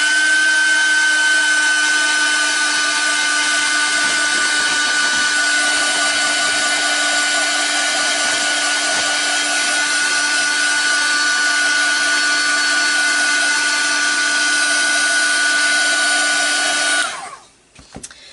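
A heat gun warms acrylic wax resist on a mixed-media painting, giving a loud, steady blowing whir with a constant motor hum that runs unbroken for about seventeen seconds before cutting off abruptly.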